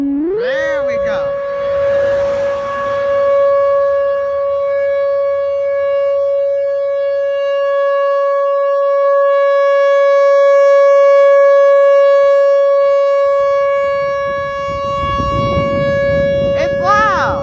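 A civil defense siren sounds during a required weekly test, rising into a loud, sustained steady wail that holds for many seconds before winding down, with voices briefly audible at the start and end.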